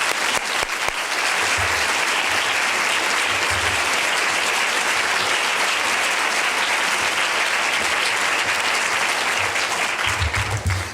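An audience breaks into loud, steady applause for Paul at an evening lecture, a dense wash of clapping that holds evenly for the whole stretch before tapering slightly at the end.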